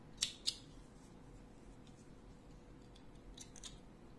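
Two crisp scissor snips close together cut crochet yarn while finishing a handmade crochet bralette top, followed by quiet room tone and a few faint handling clicks.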